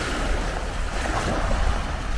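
Beach on Mamutik Island near Kota Kinabalu, Sabah, Malaysia, with a steady wash of gentle surf and wind buffeting the microphone, a continuous broadband roar and no talk.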